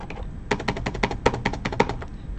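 Close, rapid keystrokes on a computer keyboard form a steady burst of clicky taps lasting under two seconds, with no talk over them.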